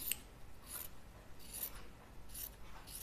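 Scissors trim the fabric seam allowance of a dress being sewn, a few soft, quiet snips spaced out over a hushed room.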